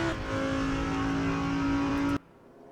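A race car at Watkins Glen in the RaceRoom racing game, its engine droning at a steady high pitch with rich harmonics, loud and close, then cutting off abruptly near the end.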